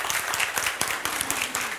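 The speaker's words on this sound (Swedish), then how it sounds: "Men först ska vi få en stor applåd för den framförande." Audience applause at a public panel on the Öresund metro in Malmö, a dense, steady burst of clapping from a full room, loud and continuous for the whole moment.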